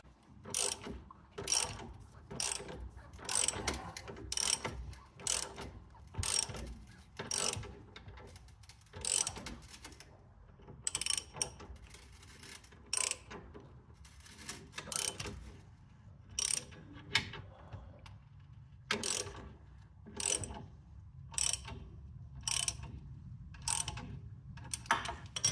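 A ratchet wrench with a 19 mm socket tightens a spring compressor on the front suspension of a Mercedes W124, giving repeated bursts of sharp clicking strokes with brief pauses between them, close and clear with no talking.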